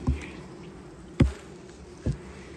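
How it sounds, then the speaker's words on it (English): Honey bees hum in an open hive during a beekeeper's frame inspection, a soft, steady low buzz close by, broken by a few sharp knocks or handling bumps. "So there's bees all down in there."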